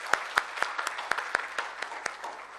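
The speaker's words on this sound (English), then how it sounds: "request you to give them a standing applause" Audience applause at a non-proliferation conference session in Islamabad, a scattered round of clapping with distinct individual claps standing out at an even pace, moderately quiet and without speech over it.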